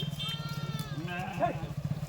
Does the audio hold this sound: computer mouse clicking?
no